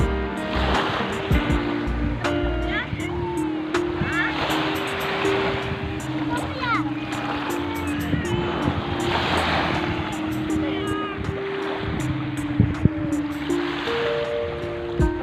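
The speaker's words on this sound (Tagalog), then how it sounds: "Ang dagat ito" Ocean surf rolls and washes continuously at a landless pool by the sea, with a broad rushing roar and a low mechanical hum running underneath.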